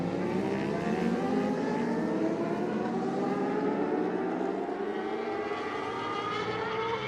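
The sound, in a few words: race cars braking hard and accelerating on track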